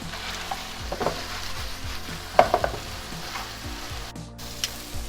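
Mushrooms and garlic sautéing in a hot pan, a steady sizzle under scattered utensil clanks and stirring scrapes, one sharper knock midway, with no voices.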